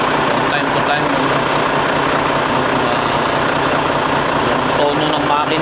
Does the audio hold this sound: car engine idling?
yes